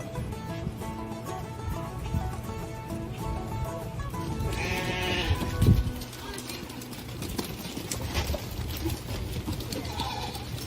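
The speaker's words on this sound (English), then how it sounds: "We're bottle feeding the little girl goats so that they stay friendly." Goats bleat on a farm at a church vacation Bible school, with several close calls over a busy background of animal shuffling and hoof sounds, and faint people in the distance.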